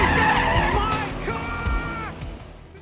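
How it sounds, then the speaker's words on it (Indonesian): A car in an action film speeds off, tires squealing and skidding loudly in long shrill streaks over a deep engine roar that fades as it pulls away. "Ray malah tancap gas meninggalkan Max"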